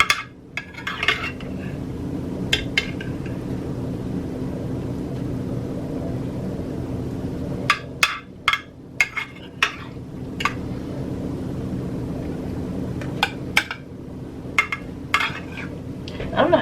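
Serving spoon scooping chicken bacon ranch and loaded green beans onto a plate: scattered metallic clinks and scrapes against dishware over a steady background hum, with quick clusters of taps near the middle and the end.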